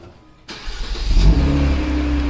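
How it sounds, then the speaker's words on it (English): A 2020 Kia Stinger GT starts up: a quiet interior, then the engine cranks, catches and rises in a brief rev before settling into a steady loud idle, with no talk. "Start the vehicle."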